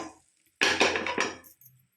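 A hot tempering of curry leaves is tipped into a pan of sambar, giving a sudden sharp sizzle and clatter of metal cookware that lasts about a second, then fades to quiet.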